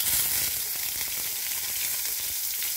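Fish wrapped in bottle gourd (lau) leaves fries in hot oil in a kadai, making a constant close hiss and crackle with no voices.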